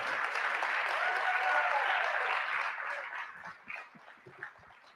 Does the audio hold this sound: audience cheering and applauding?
yes